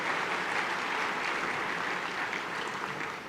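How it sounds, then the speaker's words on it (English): Steady applause from a large audience at a port of Los Angeles address, honoring port and dock workers; dense, even clapping fills the whole stretch at moderate level with no pauses. "So can we give a round of applause to all of our incredible port and dock workers"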